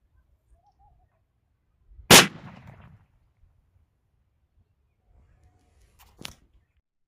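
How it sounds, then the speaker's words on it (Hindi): A mirchi bomb firecracker goes off beside a gas bottle with one sharp, loud bang and a short crackling tail, then a smaller distant pop a few seconds later, with near silence around both. "अभी गैस आग लगाते हैं मिर्ची बम में"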